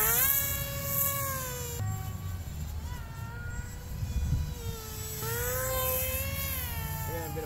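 A radio-controlled FT-22 model plane on a test flight gives a high, buzzing electric motor whine that rises and falls in pitch as it passes, steady and fairly close throughout.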